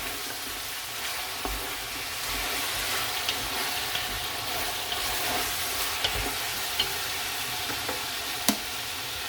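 Ginger garlic paste fries in a pot for chicken pulao, a soft continuous sizzle with occasional faint taps and scrapes as it is mixed.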